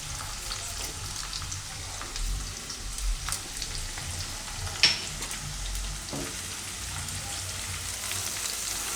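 Paneer and green chillies sizzle steadily in hot frying oil while being turned, a continuous crackling hiss broken by a few spoon scrapes and a sharper clink near the middle, with no voices.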